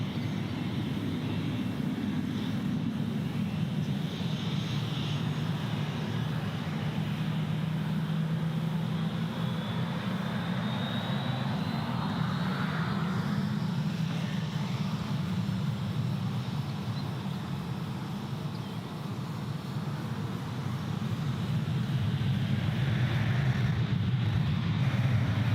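Under heavy rain at Gold Coast Airport, an airliner's engines make a steady, continuous roar on its takeoff run, with the distant rumble and rushing noise staying level throughout.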